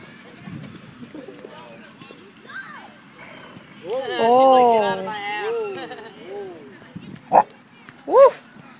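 A pitbull at a park gives two short, sharp barks near the end, after a stretch of excited yelps and whines, with people talking and laughing throughout.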